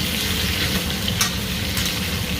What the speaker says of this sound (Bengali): লাউ ভাজছি, তার মধ্যে সবুজ সবুজ কাঁচা লঙ্কা